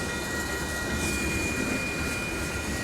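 A train rumbles steadily past a street rail crossing at Fondren Road and South Main Street in Houston. It is a continuous, fairly loud roar with a steady high tone ringing over it, and no one speaks.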